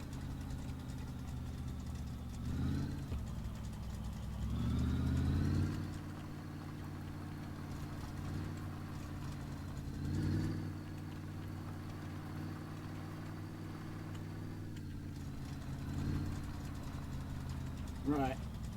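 A car engine in My Garage idles steadily and rises in a few short throttle blips, its low drone swelling and falling back, with a person talking over it.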